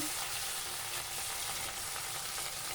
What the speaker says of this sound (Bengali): সর্ষের তেল দিয়েই এই রান্নাটা হয় সাধারণত মাছগুলোকে ভেজে নিচ্ছি